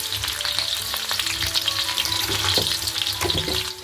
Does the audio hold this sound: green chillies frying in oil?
yes